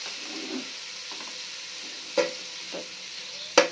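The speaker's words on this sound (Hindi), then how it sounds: "थोड़ा सा लहसुन की खुशबू आने लगे तो इसमें हम डाल देंगे चिकन" Chicken fries with garlic in a pan, a quiet steady sizzle broken by a few sharper stirring scrapes and clinks near the end.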